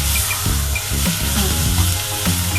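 Minced meat and onion frying and being stirred in a pan, a dense continuous sizzle with a loud, close, steady crackle and occasional spoon scrapes.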